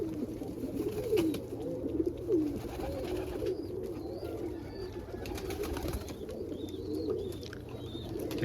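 Pigeons, including blue check and indigo birds, coo repeatedly at close range while being fed corn in the morning, their soft rolling calls layered over a low steady background.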